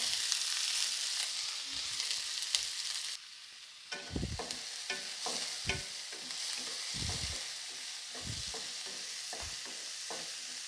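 Two large cut onions fry with mustard seeds in a pan, a loud bright sizzle that drops briefly as they go in, then continues with repeated close scraping stir strokes.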